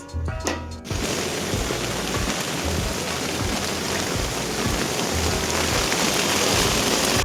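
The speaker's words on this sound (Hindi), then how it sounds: "घर से निकला नहीं कि बारिश शुरू हो गई भयंकर वाली" Heavy rain pouring outdoors in Indore, a dense continuous hiss and patter after a short opening bump, loud and steady throughout with no voices.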